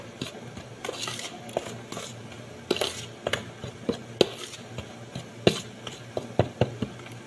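A spoon stirs dough ingredients with salt in a bowl, giving a close series of irregular clinks and scrapes against the bowl that occasionally come in quick bursts.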